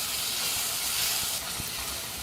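Ingredients for tomato fried rice sauté in ghee in a pan over a low flame, giving a steady, close sizzling hiss with faint soft pops and no voices.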